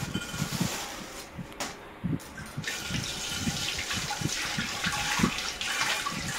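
Dishes being washed under running water at a home sink, a steady close splash and gush of tap water with clinks and knocks of utensils throughout.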